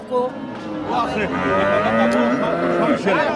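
A cow at a cattle market gives a long, loud, close moo that rises and stretches for a few seconds, with faint background noise.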